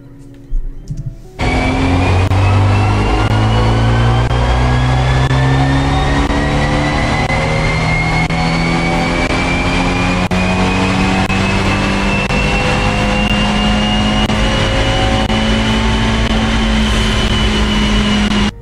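A Fiat 124 Spider Abarth engine runs on a dyno under light load, starting abruptly and then holding a loud, steady drone whose pitch climbs slowly and smoothly throughout.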